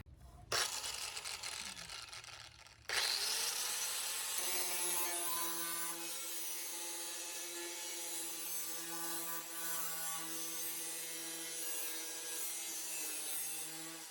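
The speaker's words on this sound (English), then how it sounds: "I'm going to start sanding on this primer over here and clean it up a little bit" Continuous abrasive rubbing of a power sander on primer and body filler on a Mustang trunk, a steady whirring grind with a short break near the start.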